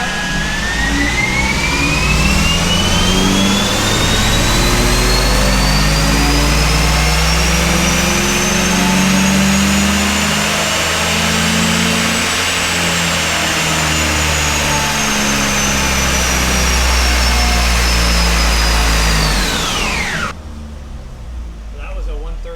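A 2007 base Saturn Sky roars on a chassis dyno, its engine revving in one long rising pull with a climbing whine, loud and close, before cutting off abruptly near the end.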